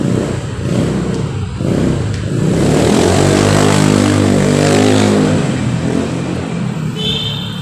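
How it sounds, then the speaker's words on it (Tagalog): A motorcycle speeds past on a city street in Mandaluyong's Greenfield district, its engine swelling to a loud, revving roar up close before fading away amid traffic noise. "Bilis magpatakbo ng motor."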